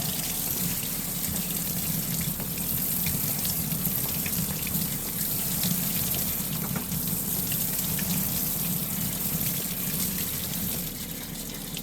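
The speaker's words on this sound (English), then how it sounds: "I'm going to give this lid a good rinse" Running water splashes steadily over a rock tumbler barrel lid during a rinse, a continuous close hiss and patter without pause, no talking.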